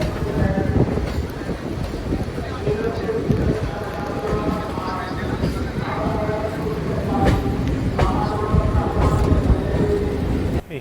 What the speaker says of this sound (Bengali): এই ট্রেনে করেই যাচ্ছি চন্দননগর হাওড়া থেকে